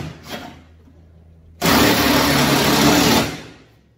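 A power driver sends a purlin fastener into a pre-drilled hole in a metal R-panel roof with one loud, close, steady burst of about a second and a half that then winds down, after a brief faint tap.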